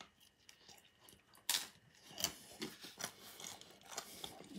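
Crisp crust of a hot kebab pizza from a traditional pizza vending machine being bitten and chewed up close, with a sharp crunch of the first bite followed by several softer crunchy chews.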